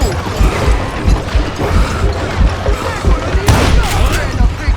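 Loud, dense in-game gunfight from the Call of Juarez: Gunslinger video game, with heavy crashing blasts and rapid gunfire throughout, a sharp explosive burst of thrown dynamite standing out near the end amid the continuous barrage.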